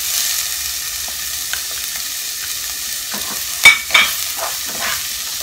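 Softened garlic fries in a pan as salt and chilies go in: a steady close sizzle, with a couple of sharp clinks or scrapes near the end.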